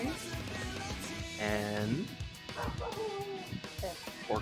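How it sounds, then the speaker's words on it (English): A pet dog named Riley barks and yips in quick close bursts, with rising whining tones between the barks, loud and near. "Doggo likes to bark at things, including leaves."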